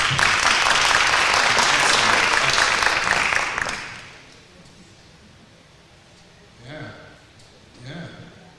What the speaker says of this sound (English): Give a round of applause to our timekeeper,